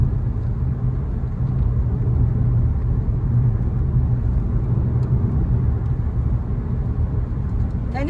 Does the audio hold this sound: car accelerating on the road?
yes